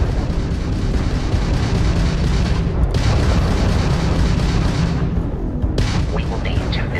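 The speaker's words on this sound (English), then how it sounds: "that's a Crimson Fleet ship bringing its weapons to bear" A Crimson Fleet ship fires its weapons in a space combat video game: dense, sustained booming blasts and rumbling roars that run nearly the whole stretch with only brief dips, loud and close.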